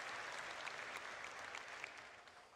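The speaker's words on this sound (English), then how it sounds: "All right, you can clap." Audience applause at a Star Citizen CitizenCon presentation: steady, dense clapping from a large crowd that fills the whole stretch at an even level, with a few sharper individual claps standing out.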